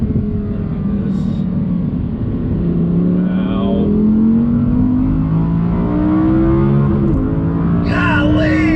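An Audi R8 engine revs hard as the car accelerates out of a turn, its pitch climbing steadily in one long, loud, close pull with a brief shift, while a person exclaims over it.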